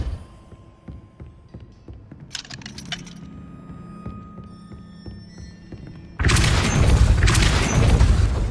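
A Depulso spell fired in Hogwarts Legacy, with a loud broadband impact burst near the end after quieter game ambience and faint clinks.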